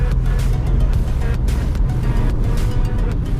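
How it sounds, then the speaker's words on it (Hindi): A Skoda Kushaq 1.0 TSI with a six-speed torque converter automatic accelerates past 2000 RPM, its engine a steady, loud, broadband drone heard continuously from inside the moving car. "2000 RPM के ऊपर जाते हुए तो मतलब एकदम बदल सा जाता है ये इंजन।"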